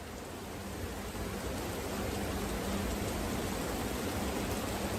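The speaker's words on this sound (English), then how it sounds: "The roof of this building is made of metal. It's very loud." Dense, steady roar of heavy rain drumming on a metal roof, loud and continuous with no pauses or voices.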